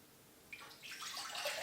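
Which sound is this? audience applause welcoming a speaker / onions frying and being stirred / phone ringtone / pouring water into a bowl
pouring water into a bowl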